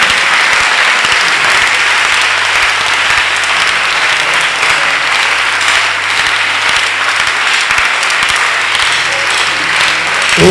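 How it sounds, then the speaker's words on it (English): A church congregation at a Christian convention breaks into loud, sustained clapping that fills the whole stretch evenly and continuously, with no voices rising above it. "clap and let us hear now."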